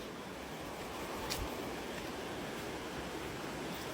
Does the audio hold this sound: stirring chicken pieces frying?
no